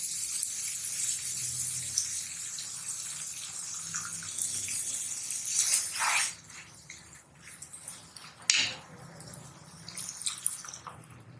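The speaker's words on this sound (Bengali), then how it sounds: "পানি দিয়ে দিলাম, এই পরিমাণ পানি দিয়ে দিলাম" Water poured into a pan of fried banana blossom and dried fish, a steady close splashing rush with a few wetter gurgles and one sharp clack partway through, no voices.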